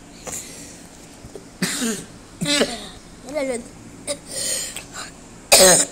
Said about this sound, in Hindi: इतनी इतनी दूर दूर से मुझे खांसी आ रही है